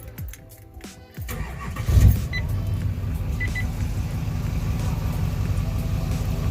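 Duramax diesel truck engine cranking and catching about a second in, then settling into a steady, loud, close idle rumble that continues to the end.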